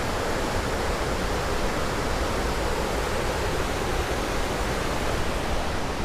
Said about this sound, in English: It's another little cool view of the rushing river.